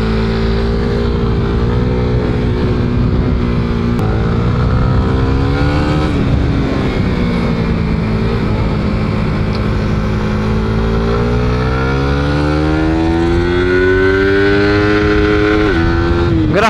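A Suzuki Raider Pro motorcycle engine revs hard and accelerates, its loud, continuous drone rising and falling in pitch through repeated throttle pulls and gear changes, close and steady throughout.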